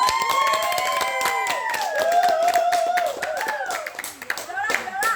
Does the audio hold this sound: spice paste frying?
no